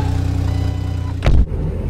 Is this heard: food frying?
no